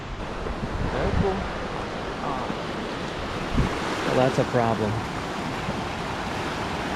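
A river flows steadily along a backpacking route, its broad wash of rushing water filling the whole scene while someone speaks briefly over it.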